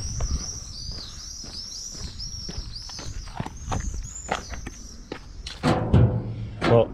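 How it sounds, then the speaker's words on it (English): Birds shriek in a street in Herceg Novi, Montenegro, with high calls repeating throughout. Footsteps sound nearby, and louder thuds come near the end. "surrounded by the shrieking birds"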